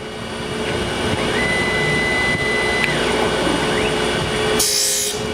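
A Tormach PSG612 surface grinder works a piece of CPM S90V steel, a continuous loud whine and hiss with a slight tonal sweep, ending in a brighter burst of grinding noise, no talking.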